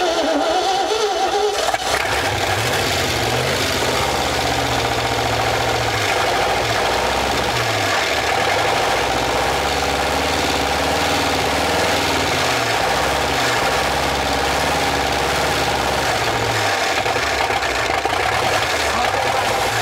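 A 1957 Chevy Viking truck engine, long abandoned and newly revived, idles with a steady low rumble and slight knocking throughout, close and loud.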